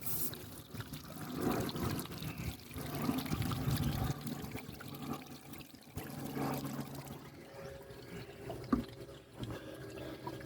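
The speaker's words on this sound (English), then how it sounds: "So that's a good deal bigger bilge pump than is installed as standard." An oversized bilge pump drives a steady stream of water from a hose, a continuous splashing and trickling flow at moderate level, with no talk.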